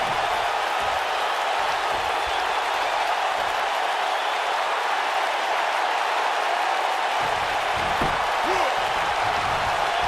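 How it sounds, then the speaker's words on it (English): Arena crowd in the WWE 2K19 wrestling video game: a dense, steady wash of cheering and roaring that stays loud throughout, with a few low thuds from the ring near the end. "Woods is showboating, hamming it up, and the crowd loves it."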